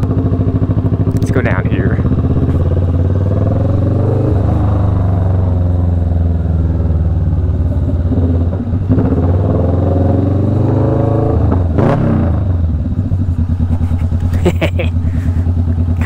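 A Kawasaki Vulcan S cruiser motorcycle rides loudly, its engine droning and rising with revs from close by, while the rider talks over it and other brief clatters break through.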